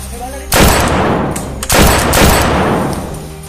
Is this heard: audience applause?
no